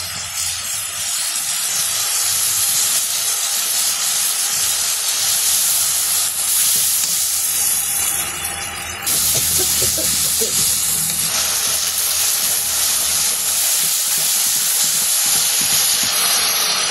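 Turmeric, chilli and salt fry in a pan over a village cooking fire, a loud steady sizzle and hiss running without a break from start to finish.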